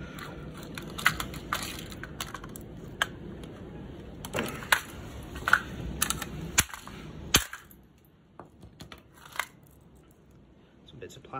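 Plastic pieces are snapped and pulled off an Xbox One controller, producing sharp close clicks and cracks in irregular bursts over faint background rustling, with talking mixed in before the sounds thin out.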